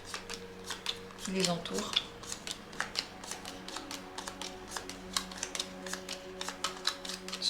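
Lenormand cards being handled and shuffled in a pile, with quick papery flicks and soft slides coming in irregular bursts while someone speaks French over them.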